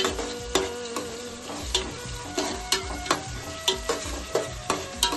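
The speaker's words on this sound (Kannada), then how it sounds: "ಗೋಲ್ಡನ್ ಬ್ರೌನ್ ಕಲರು ಆಗೋವರೆಗೂ ಫ್ರೈ ಮಾಡಬೇಕು." Chopped onions and spices fry in a pan for chicken biryani, giving a steady sizzle broken by regular, evenly spaced spatula scrapes and taps. No one speaks.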